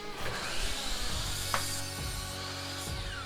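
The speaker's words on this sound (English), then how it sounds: "Now to finish up the ends, I'm cutting it so we have a nice straight edge" Reclaimed wood board being cut square at its ends, a steady rasping saw stroke running continuously at close range, with a few faint knocks and no talking.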